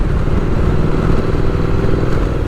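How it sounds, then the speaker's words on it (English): A street motorcycle riding through South Philadelphia, its engine a loud, close, steady drone with a rough low rumble and no voices. "what better bike to ride than a bike with street in the name?"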